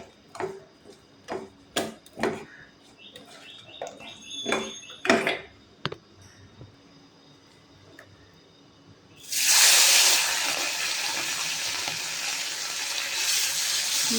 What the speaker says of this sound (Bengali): মাছগুলো দুবারে ভাজবো।